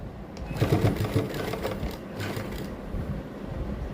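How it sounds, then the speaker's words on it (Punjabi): Domestic sewing machine stitching lace onto a shirt, a steady mechanical whirr that runs for a few seconds at moderate loudness, with a brief louder burst near the start and no voices. "ਇੱਥੋਂ ਸਲਾਈ ਲਾਉਣੀ ਸਟਾਰਟ ਕਰਾਂਗੇ ਜਿਹੜੀ ਸਟਾਰਟਿੰਗ 'ਚ ਸਲਾਈ ਲਾਉਣੀ ਆਪਾਂ ਡਬਲ ਲਾਉਣੀ"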